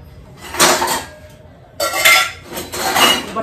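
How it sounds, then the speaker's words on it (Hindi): Washed dishes, pots and cutlery clatter and clink loudly in a home kitchen, in two or three close bursts of metallic rattling separated by a short pause. "बर्तन धो के रखे थे अवनी सारे"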